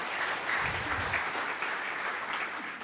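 Congregation at a church service claps together in sustained applause for about three seconds, a dense steady clatter of many hands filling the room without any voices over it.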